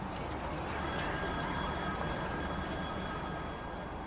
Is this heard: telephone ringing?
yes